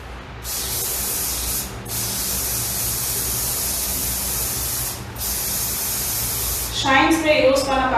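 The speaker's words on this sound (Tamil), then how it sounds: "And again shine spray நிறைய யூஸ் பண்ணுங்க." Shine spray misted onto hair while a South Indian bridal hairstyle is being prepped: three long, steady hissing bursts separated by brief pauses, loud and close, with a voice starting at the very end.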